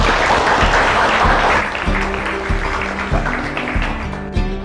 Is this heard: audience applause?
yes